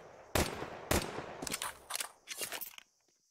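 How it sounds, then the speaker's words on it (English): Rapid bursts of gunfire in a Counter-Strike match, several sharp cracks and rattling volleys in quick succession at moderate distance, ending in quiet. "Rattling off shots all over the place"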